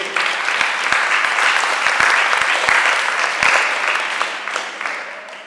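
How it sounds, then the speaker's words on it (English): Sustained round of applause at a wedding speech honoring a guest, dense clapping from a roomful of people filling the whole stretch, steady and loud before gently tapering toward the end. "please show a round of applause for Sylvia"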